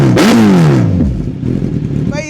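A superbike engine revs up loudly and then settles into a rough, throbbing idle close by.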